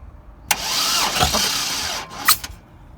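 A junkyard Ameri-Barra 4200 Atlas truck engine cranks over and catches, running with a steady broadband roar for about two seconds before a brief revving burst near the end.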